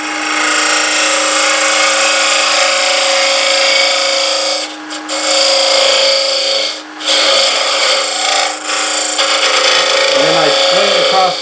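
A lathe tool cuts a spinning wooden box blank into a cylinder, a loud, continuous rasping scrape over the lathe's steady hum, briefly dipping when the tool lifts off, with a voice speaking near the end.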